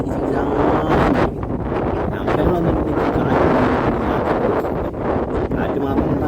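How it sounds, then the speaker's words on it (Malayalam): Strong gusts buffet the microphone at the Ramakkalmedu watch tower, a loud continuous roar of wind rushing past throughout, with no gaps. "കാറ്റെന്ന് പറഞ്ഞു കഴിഞ്ഞാൽ അമ്മാതിരി കാറ്റടിക്കണം കേട്ടോ"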